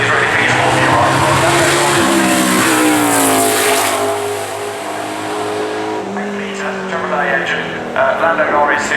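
A Grand Prix race car on a wet Goodwood hillclimb at the Festival of Speed 2019 screams past loudly, its engine note rising and falling through gear changes as it slides sideways, while a commentator talks over it.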